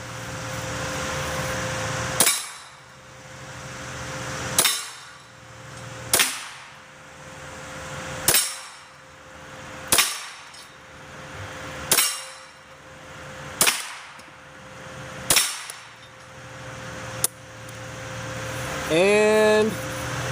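Eight loud, sharp gunshots ring out one at a time from a gun lubricated only with Tactical Honey. They come at roughly two-second intervals, each with a short ringing decay, and end in a brief metallic clatter.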